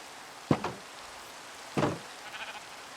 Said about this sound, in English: I have a lot of black sheep right now